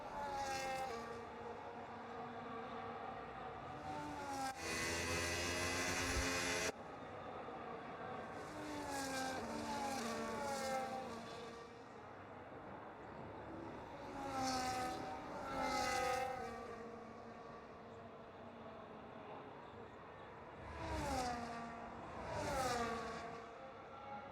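Race cars in a racing sim game circle on a formation lap, engines droning and rising and falling as they pass through gears, with a steady engine hum beneath, moderately loud and without talk.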